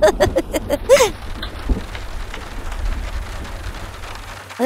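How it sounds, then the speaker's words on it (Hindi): Steady rain falling outside a house at night, a soft continuous hiss with a few sharp tonal sounds at the start and a low rumble, heard alone without voices. "बारिश होने वाली है"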